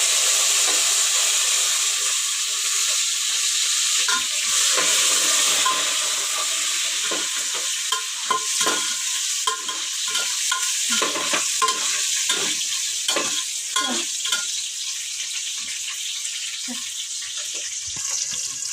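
Sliced onions, green chilies and mint sizzle steadily in hot oil in a home kitchen pan, with repeated close stirring scrapes and clinks over the continuous frying hiss.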